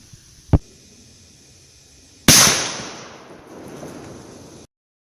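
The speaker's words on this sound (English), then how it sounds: "So I'm going to have to take another third shot and see if we can capture with that one." A single sharp, loud rifle shot from a .450 Bushmaster firing 250 grain FTX ammunition cracks outdoors, then rings and fades over a couple of seconds, preceded by a faint click.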